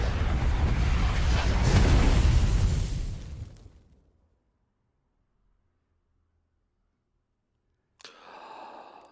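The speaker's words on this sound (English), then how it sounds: "That same explosion again." A loud, roaring explosion in the video game Outer Wilds rumbles for about four seconds before dying into silence, followed by a brief burst of softer sound near the end.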